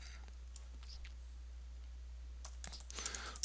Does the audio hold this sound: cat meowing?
no